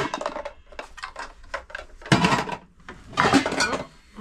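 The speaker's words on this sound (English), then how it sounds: "Oh, there are more pans." Metal pans and lids clatter and clank as they are unpacked from a storage unit bin, a series of close, irregular knocks and scrapes with two louder crashing bursts, no talking.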